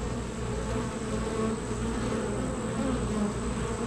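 Honey bees swarm around a hive colony in an apiary, producing a dense, continuous buzzing hum that stays steady and close throughout with no voices.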